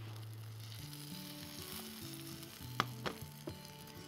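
A tofu burger patty fries in a pan with a steady close sizzle, and a few sharp clinks or scrapes land near the end. A faint tonal hum sits underneath.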